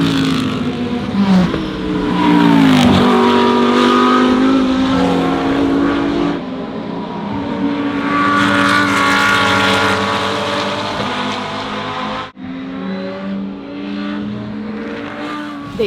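Race car engines at the 24 Hours of Le Mans endurance race drone loudly and steadily, with pitch climbing and falling as cars rev and pass, and no voices over the continuous roar.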